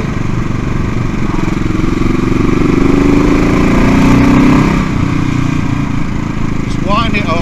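A CCM Bobber motorcycle out on the road, its engine droning loud and close with a throttle swell that peaks mid-way and then eases back, wind rushing over the mic.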